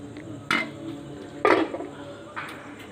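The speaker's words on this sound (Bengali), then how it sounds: "গামলার উপর থেকে ঢাকনাটা সরিয়ে নিচ্ছি" A lid is lifted off a bowl of steamed milk pudding, giving two sharp, close clinks of dish against dish with a fainter knock just after, set against a quiet kitchen background.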